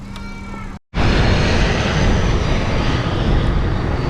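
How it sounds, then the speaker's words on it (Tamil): An airplane coming in to land beside Langkawi airport, a loud, broad engine roar that fills the clip after a brief dropout, steady and close overhead. "சூப்பராக இருக்குது ஃப்ளைட் வந்து இறங்குது இது வந்து ஏர்போர்ட் பக்கத்தில்"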